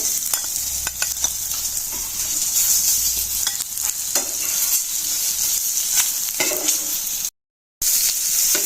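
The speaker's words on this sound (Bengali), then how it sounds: "আমি এক এক করে সব মাছগুলো ভেজে নিলাম" Rohu fish pieces fry in a pan for a fish and eggplant curry, giving a steady, close sizzle with stirring and small clatters throughout, broken by a brief silent gap near the end.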